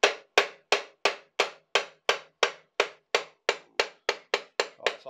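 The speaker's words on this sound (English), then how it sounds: "So we've got a copper mallet there, as you can see, and we're just going to gently tap the output shaft to the clutch." Copper mallet tapping the output shaft of a Vauxhall F17 gearbox, about fifteen sharp, evenly spaced metallic knocks in a steady rhythm, close and clear with nothing else heard.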